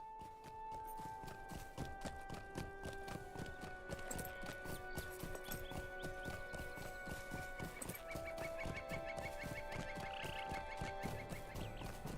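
Horse hooves clip-clop steadily in a fantasy video game, the horse carrying bags full of potatoes, the regular hoof beats sounding over game music with occasional fowl clucks in the background.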